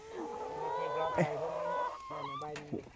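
Hens clucking and squawking close by in short, repeated bursts, with a few sharper calls and occasional voices nearby.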